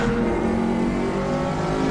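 Group 5 race car at Bathurst in the Raceroom racing game, its engine holding a loud, steady high-revving drone with layered harmonic tones, close and continuous throughout.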